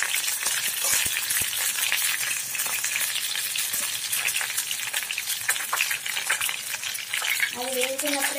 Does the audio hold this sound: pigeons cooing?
no